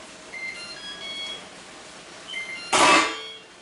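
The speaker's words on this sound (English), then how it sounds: "So my timer's going off." A kitchen timer goes off while steak and mushrooms with onion cook on a stove, its beeps sounding near and loud after a stretch of faint cooking noise and quiet electronic tones.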